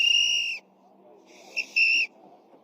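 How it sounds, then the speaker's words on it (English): Two loud, shrill whistle blasts ring out during an ICE street confrontation, a long steady blow followed after a pause by a shorter wavering one, over a low background murmur. "These whistles."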